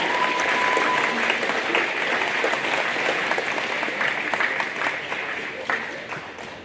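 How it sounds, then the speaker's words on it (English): Students and staff at a school recognition assembly give a quick round of applause, a dense, even roar of many hands clapping in a large hall that tapers off toward the end. "So a quick round of applause for those students."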